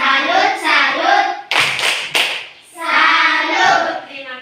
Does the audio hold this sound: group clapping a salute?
yes